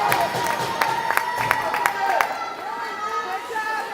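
Barons fans cheer and clap at a girls' 12U youth hockey game, a lively crowd roar with sharp claps and bangs near the rink railing in the first half, thinning to chatter as a commentator talks.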